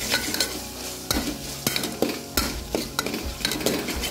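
Ginger garlic paste sautéed in a pan for a Mangalore-style mixed vegetable dal, with a close, steady sizzle broken by repeated spatula scrapes and knocks against the metal pan, and no voices.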